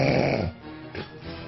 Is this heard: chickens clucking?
no